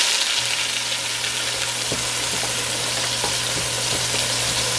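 Mixed vegetables frying in a pan for Liberian fried rice, a constant loud sizzle with a low steady hum beneath and a few faint stirring clicks, no talking.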